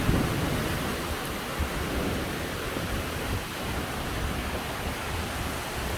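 A powerful lightning storm roars as a dense, steady wash of heavy rain and rumbling thunder, loud and continuous throughout with no voices.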